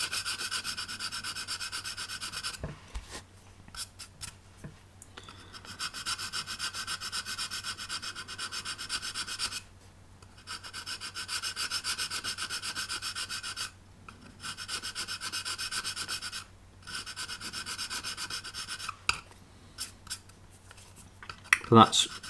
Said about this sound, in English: Obviously with files you've got to be very careful you're not reducing the plastic because they are quite abrasive.